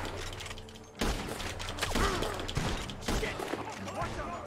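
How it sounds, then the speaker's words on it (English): Gunfire from a barn in Red Dead Redemption 2 bursts into a fusillade of shots and crackling impacts, dense and fairly near, with someone talking over parts of it. "The gunshots are coming from that barn."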